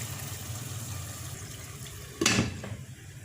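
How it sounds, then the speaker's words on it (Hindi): A brief splash of water poured into a pot of chicken curry, lasting under half a second, against a quiet, steady background hum. "पानी हस्बे ज़रूरत डालेंगे।"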